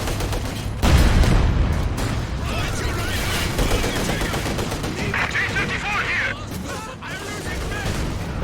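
Tank cannon fire and rattling shots ring out in a Company of Heroes 2 tournament battle, including hits on an Ostwind anti-aircraft tank. A dense, repeated barrage of bangs plays under a commentator talking throughout.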